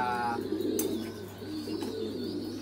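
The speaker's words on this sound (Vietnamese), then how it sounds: "cặp con chim bồ câu" A pair of domestic pigeons at a breeding farm, one of them yellow, cooing in low, throaty rolling phrases close by over a steady background hum, with a brief higher chirp early on.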